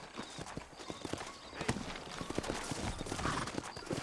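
Horse hooves clip-clop in a steady trotting rhythm in the video game Red Dead Redemption, fairly close, with a faint rumble underneath.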